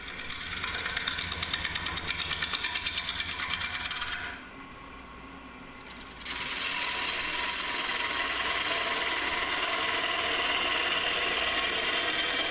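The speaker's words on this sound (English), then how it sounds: "using a pull cut here to clean up the bottom a bit" A gouge makes a pull cut on a turned elm bowl spinning on a lathe, a steady rough scraping whir with a rhythmic chatter at first, a brief quieter gap, then continuous cutting noise.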